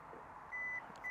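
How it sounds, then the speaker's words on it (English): A Genesis GV70 power tailgate gives a single steady electronic beep, then a second one begins just at the end, clear over a quiet background, as the custom opening height is set. "It will beep, and that's now set it at this height."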